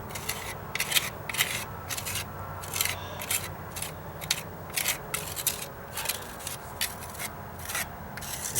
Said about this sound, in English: And I'm just taking my crummy little putty knife.